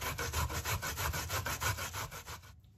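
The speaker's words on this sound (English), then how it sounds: "Now that my cassavas are grated" Cassava being grated by hand on a sharp grater, a steady run of close, loud rasping strokes in even rhythm that stops abruptly near the end.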